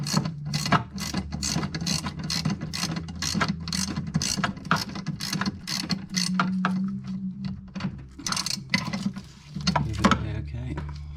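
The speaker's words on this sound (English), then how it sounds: "Get this one off, just using a 10mm socket on that one" A 10mm socket ratchet works a lock nut loose on a Sea-Doo GTI/GTX/GTR jet pump, giving a run of close, rapid clicking bursts through most of the stretch with occasional light handling noise.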